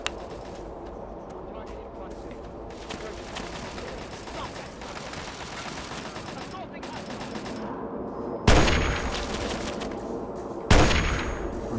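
Gunfire in the video game Fallout 3's Operation Anchorage: rattling automatic bursts run under a talking voice, followed late by two loud, sharp single shots that ring out.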